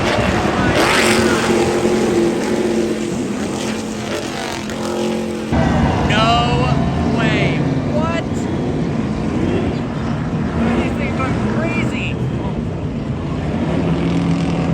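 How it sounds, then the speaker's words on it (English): Super Trucks race engines roar and whine at a racing event, loud and changing pitch as the trucks pass, while a voice talks over the engine noise. "Something I'm incredibly excited to see for the first time ever is the Super Trucks event."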